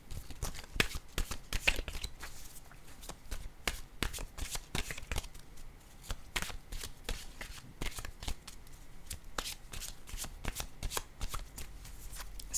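Tarot cards are shuffled continuously and close up, a long run of quick riffling flicks and soft slaps with a steady, uneven rhythm throughout.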